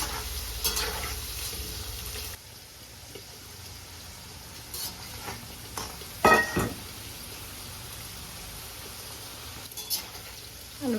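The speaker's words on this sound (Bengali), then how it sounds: "এই ডুমো ডুমো করে কেটে রাখা আলু ভেজে নেব। আলুটা একটু লাল লাল করে ভেজে নেব।" Diced potatoes fry in hot oil with a soft, steady sizzle, broken by a few louder scrapes and clatters of stirring in the pan.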